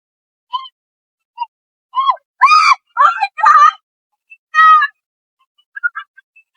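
A frightened woman screams while walking through a muddy rice field, giving a string of shrill, wavering cries and wails that grow louder and longer, then a few short, faint yelps, close to the microphone with silent gaps.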